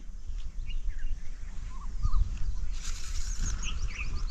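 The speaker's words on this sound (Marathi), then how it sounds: "सकाळचं शांत वातावरण असल्यामुळं या ठिकाणी सर्व पक्ष्यांचा आवाज आपल्याला" Birds call faintly and intermittently on a quiet village morning, with short chirps and whistles scattered over a low rumbling outdoor background.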